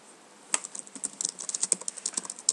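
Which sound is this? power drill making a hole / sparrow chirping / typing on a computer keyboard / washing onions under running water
typing on a computer keyboard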